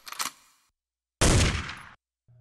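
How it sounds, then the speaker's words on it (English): Gunshot sound effects dropped into a rap beat: a quick crack with a short tail, a pause, then a louder, sustained burst of gunfire ringing out for under a second before a faint low tone enters. "Can't forget the gun noises."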